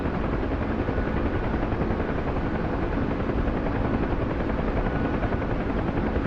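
Helicopter in the DCS World flight game, a steady loud rotor and engine drone with dense low thumping that holds unbroken throughout, no talk.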